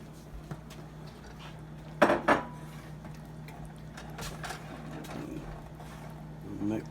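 Utensil scraping and clinking against a pan while cheese is mixed into cooking chicken, a few sharper knocks among soft stirring, with people talking throughout.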